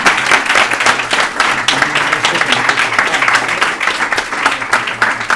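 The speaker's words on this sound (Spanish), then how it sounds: "vamos a recibirle con un aplauso que los que se merecen" A live audience at a talk breaks into sustained, loud applause, dense overlapping claps continuing steadily throughout with a few indistinct voices mixed in.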